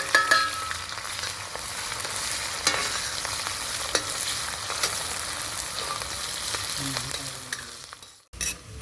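Panch phoron spices and tempering sizzle and crackle loudly in hot oil in a wok, a continuous frying hiss with scattered pops and stirring scrapes, ending in a brief pause.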